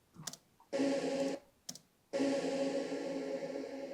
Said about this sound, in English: it sounds like this before it was reversed